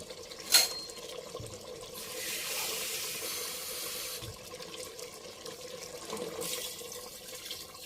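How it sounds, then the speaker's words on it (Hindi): Water pours into a pressure cooker pot over fried tomatoes in a steady rush for several seconds, softening toward the end, with a brief clink near the start. "मैं इसमें पानी डाल लेती हूँ।"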